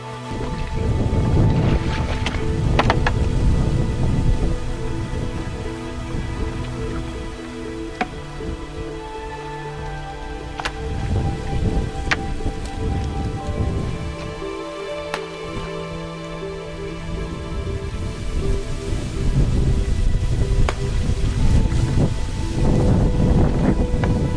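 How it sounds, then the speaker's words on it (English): Rain starts to fall outdoors during a morning duck hunt, alongside gusts of wind buffeting the microphone, with scattered sharp drops and knocks over a steady wash of noise. "it just started raining"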